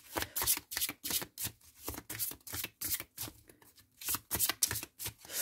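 Tarot cards shuffled by hand in rapid riffling bursts, a steady run of crisp papery flutters with brief pauses, close and clear, with one card flipping loose from the deck.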